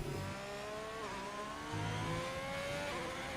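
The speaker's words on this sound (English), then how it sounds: "I'm just downshifting for the sake of hearing the engine." Race car engine in a racing video game, the pitch stepping down through several downshifts and then climbing again, a steady loud whine with no talking.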